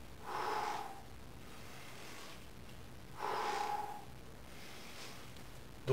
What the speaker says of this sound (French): Je souffle à l'effort, j'inspire à l'excentrique.